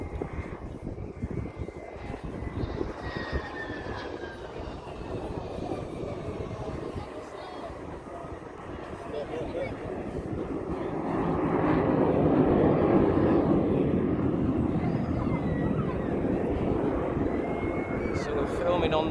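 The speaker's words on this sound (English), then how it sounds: "So we got the jet Provost." Jet Provost aircraft at the Eastbourne International Airshow, heard from the pier as a steady, moderately distant engine roar that swells louder in the second half, mixed with wind, crowd noise and nearby voices.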